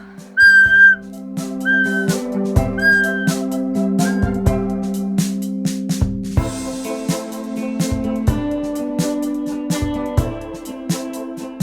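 A few short whistle blasts ring out at the start over sustained background music with steady percussive hits.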